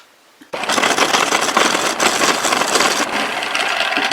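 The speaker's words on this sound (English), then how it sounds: "I wonder if it'd make a wood lathe" An improvised wood lathe starts up and keeps spinning, a loud, steady whirring and rattling drone that kicks in suddenly after a short quiet lead-in.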